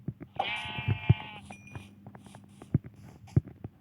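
Sheep bleating in the Minecraft video game: one drawn-out, wavering bleat rings out clearly near the start, followed by soft thumping footsteps and faint scattered game sounds.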